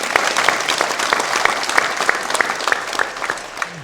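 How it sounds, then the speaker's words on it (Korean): A church congregation at a Friday worship service gives a round of applause, loud and sustained clapping with distinct individual claps standing out from the crowd. "우리 하나님께 영광의 박수를 드리겠습니다."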